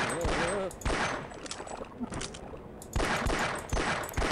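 Gunfire in the video game Half-Life rattles in dense bursts of rapid shots, pausing briefly before resuming, with a German-speaking voice over the noise.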